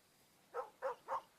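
Three short, evenly spaced dog barks from the video game Sword & Sworcery, fairly faint and clear with no talking.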